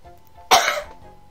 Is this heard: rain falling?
no